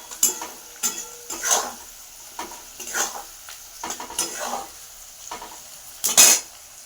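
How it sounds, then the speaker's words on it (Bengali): Onion fries in a pan under a soft sizzle, while a utensil scrapes and clinks against the metal in a loose, repeated stirring rhythm. "পেঁয়াজটা একটু ভাজা হচ্ছে"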